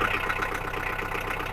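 A skid steer diesel engine idling after a cold start, giving a steady, loud, close rumble with an even rapid knocking pulse and no voices.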